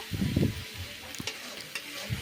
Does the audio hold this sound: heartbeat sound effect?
no